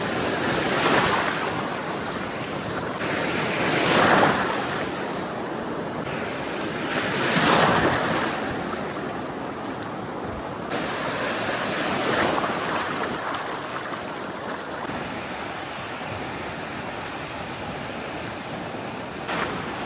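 Rough sea waves roaring along the Gujarat coast during a shrimp-fishing trip, with a steady rushing surge that swells in repeated crests every few seconds, mixed with gusty wind buffeting the microphone.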